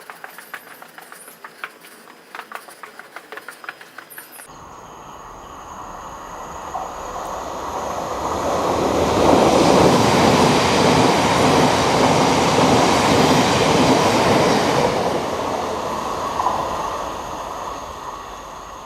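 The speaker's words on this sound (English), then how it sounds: "Just had a ThamesLink train go through the station, not stopping" A Thameslink train runs straight through Hitchin station without stopping, its roar swelling from a quiet platform to a loud, sustained rush of wheels and rail noise, then slowly fading away.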